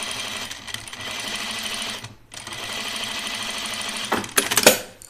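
Sewing machine running steadily for about two seconds, pausing briefly, then running again at a fast even stitch while understitching a seam on a uniform tunic, loud and close, ending with a few sharper clatters.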